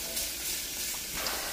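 Sausage sizzling and frying in a pot for chili, a steady hiss and crackle close up, with no talk.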